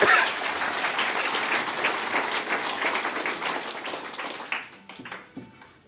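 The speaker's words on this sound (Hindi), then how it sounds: "तो अपने लिए ताली बजा दीजिए आप।" Audience applause at a spiritual gathering in Rohtak's Maham: a dense, steady wash of many hands clapping that holds for several seconds, then thins and fades toward the end.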